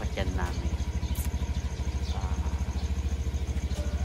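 A motorcycle idles nearby with a rapid, even engine pulse and light clatter, holding steady throughout while a few brief sounds rise over it.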